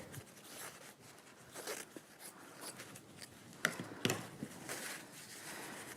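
Scissors cutting a chunk of fabric for a Paverpol craft piece, giving soft close snips and rustles with a couple of sharper clicks over a quiet hiss.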